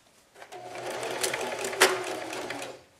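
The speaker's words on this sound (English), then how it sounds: "And we're just gonna sew a 1/4 inch seam." A sewing machine runs a quarter-inch straight-stitch seam with a back stitch on a pillowcase, set to a stitch length of about 2.5 to 3. It gives one close, even motor whir of about two and a half seconds with a faint rhythmic needle clatter.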